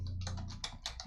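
A few quick keystrokes on a computer keyboard, close and soft, tapping out a short burst of about six presses over a low hum.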